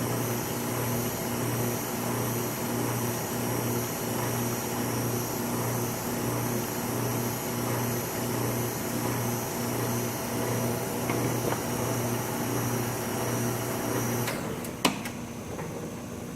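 A Neslab Thermoflex 1400 chiller hums steadily with a constant tonal drone and fan noise for most of the stretch, then cuts off near the end with a brief click, leaving quieter residual noise.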